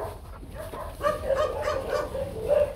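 A young Rottweiler playing with a ball gives short, close barks and yips that come in a loose, excited series after a quieter opening moment.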